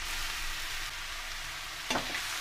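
Beetroot frying in hot desi ghee in a kadhai, steady broadband sizzle throughout with a brief stirring scrape near the end, no voices.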